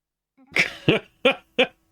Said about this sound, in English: Sorry, I'm clearing my throat a lot